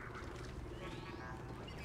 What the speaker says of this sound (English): Gungan eating a chicken.